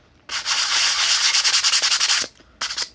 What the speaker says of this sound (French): On le ponce et il n'y a plus rien dans les deux sens.